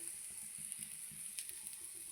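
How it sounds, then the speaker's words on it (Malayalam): Chopped shallots fry in coconut oil with grated coconut, coriander and chillies, giving a faint, steady, even sizzle with no voices. "ഇതിലേക്ക് ഞാൻ ചുവന്നുള്ളി അരിഞ്ഞത് 2 ഇട്ട് കൊടുക്കുന്നുണ്ട്."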